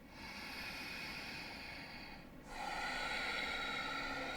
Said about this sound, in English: Nice deep inhales. Nice deep exhales.